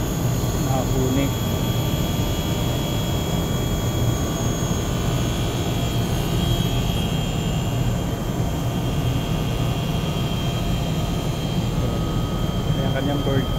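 A compressor runs with a steady, loud, unbroken mechanical drone and a broad roar for the whole stretch, with some talk over it.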